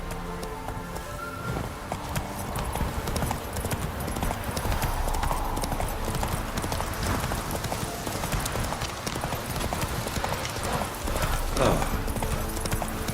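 A horse gallops in The Witcher 3, with continuous loud rapid clip-clop hoofbeats and a brief whinny, set against game ambience.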